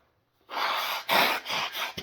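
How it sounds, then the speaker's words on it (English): A man blows his nose during a hay fever bout, three loud breathy bursts in quick succession after a moment of quiet, close to the microphone. "I'm going to pop out of the picture and blow my nose."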